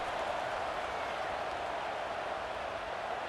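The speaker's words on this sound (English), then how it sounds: "this crowd is buzzing after that last score" Broadband roar of a football stadium crowd buzzing after a touchdown, a steady, dense wash of voices and distant applause held at an even level throughout.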